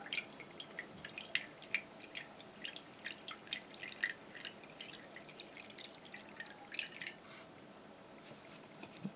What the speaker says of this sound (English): I'm going to go ahead and pour in the water